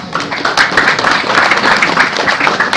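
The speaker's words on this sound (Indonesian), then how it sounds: "tepuk tangan." An audience at a Galungan religious talk in Banten applauds in a loud, dense wash of many clapping hands that holds steady throughout.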